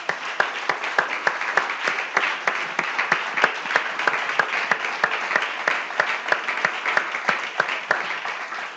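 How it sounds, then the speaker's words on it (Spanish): A church congregation claps together during a Spanish-language worship service, crisp individual claps standing out from a steady crowd ovation, moderately loud and continuous. "Démosle un aplauso al Señor,"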